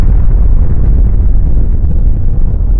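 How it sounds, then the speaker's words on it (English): A bomb explosion sound effect rolls as a deep, heavy, sustained rumble, loud and dense in the low end with little sharp detail, continuing without break or speech. "When the bombs went off, we thought the end of the world was here"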